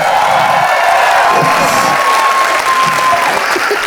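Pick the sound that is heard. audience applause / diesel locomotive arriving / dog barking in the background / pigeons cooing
audience applause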